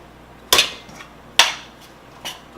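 A utensil clinks against a bowl while green peppers and onions are mixed for ground turkey Mexican cornbread muffins: three sharp, close taps about a second apart, each fading quickly, over a quiet room.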